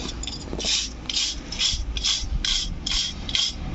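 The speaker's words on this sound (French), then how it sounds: "je suis en train d'enlever avec une brosse métallique tous les excédents de ferraille" A wire brush scrubs rust off the metal of a camper van in rapid rhythmic back-and-forth rasping strokes, close and steady, with no talk.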